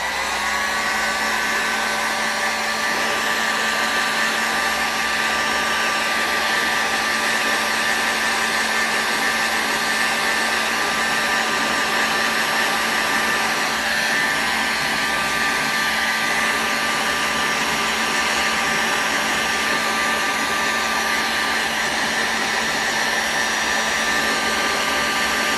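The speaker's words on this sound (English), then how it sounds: "Okay, heat gun in hand." A heat gun blows hot air in a steady, loud, unbroken whoosh with a constant motor whine, running alone with no voices for the whole stretch.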